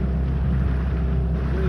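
A Sea Pro outboard motor drives a Skat boat on a river during its first outing, a steady, even low engine drone running continuously up close with wind noise over the microphone.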